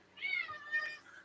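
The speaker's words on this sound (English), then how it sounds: "Move, you silly kitty cat." A cat gives two short, fairly quiet meows in close succession, the first higher and drawn out, the second slightly lower and trailing off.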